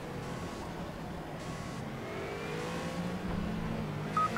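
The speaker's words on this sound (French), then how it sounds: "c'est la dernière extinction des feux ici à Zolder pour le championnat d'Europe GT4 et un très bon départ pour Daniel Kiefer" Race cars accelerating off the start line at Zolder in a GT4 European championship race in the Project CARS video game: a steady, dense engine roar with rising revs, layered cars droning together at constant loudness.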